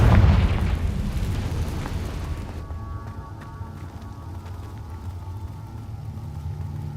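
A Confringo spell explosion from Hogwarts Legacy opens with a loud, deep boom that rolls off into a fading rumble and settles into quiet game ambience.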